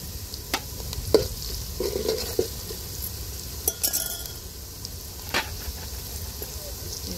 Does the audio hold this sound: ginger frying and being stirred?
yes